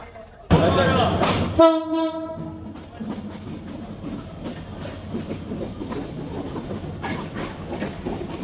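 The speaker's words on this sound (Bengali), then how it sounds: "আমাদের ট্রেনটি অল্প কিছু সময়ের মধ্যে প্রবেশ করবে" Turna Express, a Bangladesh Railway intercity train, arrives at Dhaka Airport station. A loud, sharp horn blast sounds near the start, then a steady rumble and clatter of railcars rolls past for several seconds.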